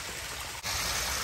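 A garden pond waterfall pours in a continuous, even rush of splashing water, close and steady, with one brief dip halfway through and no voices.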